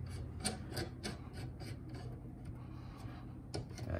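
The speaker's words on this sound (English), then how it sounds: "So I'm putting it on to this podcasting arm here. Just screwing this baby on here." A Shure SM7B microphone being screwed onto a podcasting arm, heard up close as quiet rasping thread friction dotted with small ticking clicks, with no talking.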